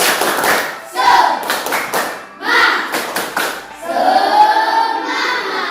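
A school class performs the rhythmic 'tepuk semangat' clapping chant, children's hands striking in patterned bursts of quick claps and pauses, with young voices chanting along throughout.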